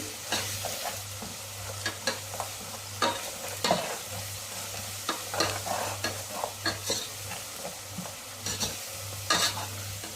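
Curry leaves and garlic fry in oil for tomato chutney, stirred steadily so the spoon scrapes and clicks against the pan in an irregular rhythm over a continuous close sizzle.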